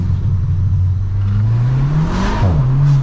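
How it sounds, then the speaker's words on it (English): VW Polo GTI with a DSG gearbox revving in first gear, then a gear change with a short pop and burble as pressure releases, the engine droning close and loud throughout. "Apparently DSG farts are literally just a slower gear change and release of pressure."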